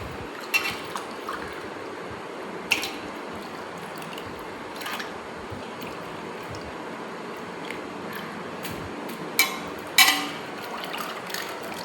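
Rice is swished and rinsed in water in a container, water sloshing and trickling continuously with occasional louder splashes and clinks, close by.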